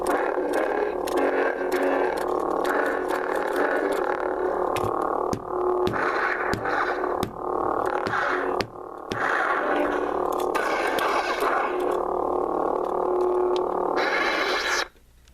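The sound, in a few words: deep lightsaber hum sound font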